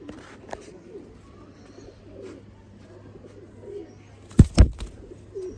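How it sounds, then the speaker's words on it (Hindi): A few low pigeon coos come in a short burst near the end, standing out over a quiet, faintly noisy background. "ज़रूरत तो ज़्यादा दोस्तों करंटा वाले कबूतर।"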